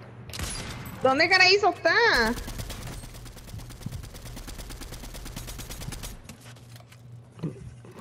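Rapid gunfire in Fortnite, bursts of shots crackling steadily in the background of the match, with players talking over it.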